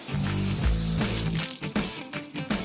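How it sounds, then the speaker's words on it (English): Water thrown onto a 1967 Buick classic car during a cleaning with Scotch Brite pads and CLR: a short, close splash and wash of liquid, followed by a few scattered drips and spatters. "Throw some water on there."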